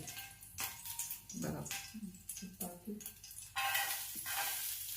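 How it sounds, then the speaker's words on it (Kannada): Ghee heats in a pan on a stove before cut coconut goes in for making guliyappa: some light stirring and clinking, then a steady, fairly close sizzling hiss that swells in the second half. "ಸ್ಟವ್ನಲ್ಲಿ ಪಾತ್ರೆ ಇಟ್ಟು ಅದಕ್ಕೆ ತುಪ್ಪ ಹಾಕ್ತಾ ಇದ್ದಾರೆ"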